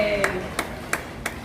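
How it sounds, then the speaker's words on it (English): Four separate claps, slow and evenly spaced, from a small group or family at an outdoor show at Walt Disney World's Animal Kingdom, moderately close and fairly faint over soft background noise. "We're clapping."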